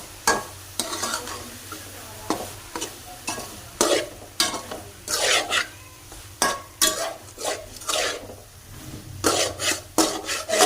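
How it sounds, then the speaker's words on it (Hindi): A spoon scrapes and stirs carrot halwa with sugar as it fries in a pan, giving repeated rasping strokes about every half second over a faint steady sizzle. "चम्मच हिलाते रहेंगे। इसी तरह हमने इसकी 10 मिनट तक भुनाई करनी है।"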